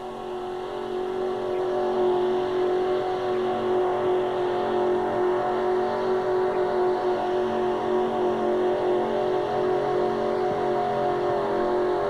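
The King Cobra pulling truck roars down the track at a 1987 Winnipeg tractor pull, a loud, continuous engine drone heard from a distance, rich and steady without breaks.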